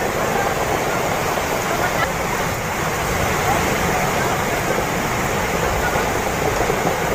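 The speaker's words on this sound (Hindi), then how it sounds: "कार पानी के तेज बहाव में बहने लगी।" Floodwater from a cloudburst surges down a village road in Uttarakhand, sweeping a car along; a constant loud roaring rush of water with a noisy, wind-buffeted hiss and no break throughout.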